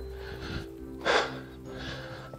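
A lone hiker breathes hard while climbing an uphill trail on Mt Ayaas, with soft breaths followed by one loud, close gasping exhale and then quieter panting.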